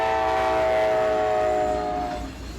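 A train, the Kentucky Derby excursion, sounds a loud sustained horn chord as it approaches, fading toward the end over rumbling rails.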